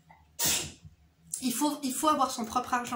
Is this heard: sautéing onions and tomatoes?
no